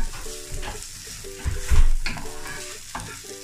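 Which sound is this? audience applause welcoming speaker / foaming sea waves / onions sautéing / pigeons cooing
onions sautéing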